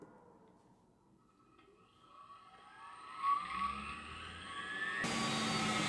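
A laboratory centrifuge loaded with electrolytic capacitors spins up to 14,000 RPM, its whine rising steadily in pitch over several seconds before settling into a loud, broad, constant whir, heard close with no talking.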